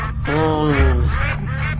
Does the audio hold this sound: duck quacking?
yes